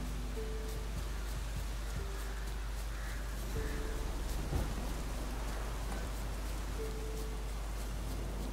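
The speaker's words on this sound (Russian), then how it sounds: "Дождик." Steady rain in the video game The Witcher 3: Wild Hunt hisses evenly, with soft faint tones drifting in and out and a few light thuds.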